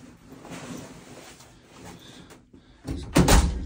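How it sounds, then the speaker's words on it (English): A sliding restroom door in a Las Vegas Park MGM standard hotel room rolls along its track and thuds shut, ending in a loud close bump. "Slide that. Okay, that closes the door to the restroom."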